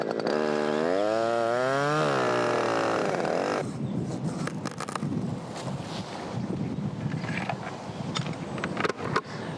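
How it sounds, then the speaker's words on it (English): A chainsaw revs up with a rising whine, then bites into wood, its roar turning ragged and rough while it keeps cutting a tree top. "Now I can make this top cut with my chainsaw"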